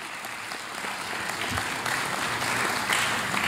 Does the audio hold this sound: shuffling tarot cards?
no